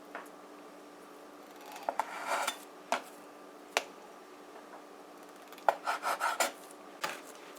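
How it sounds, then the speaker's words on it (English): Bread dough for eggless dinner rolls being cut into pieces, heard as scattered sharp taps and soft scraping strokes on a surface, close and fairly quiet, with brief clustered bursts between pauses. "we're going to cut off our pieces for our rolls"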